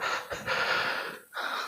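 A man imitates snoring in a mosque with rough, raspy breathing: a long noisy drawn breath, a brief break, then another harsh wheeze, close and fairly loud.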